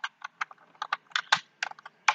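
Rapid clicks from a computer keyboard as text is typed into Tally accounting software, in short uneven bursts of keystrokes, close and moderately quiet, with no voice.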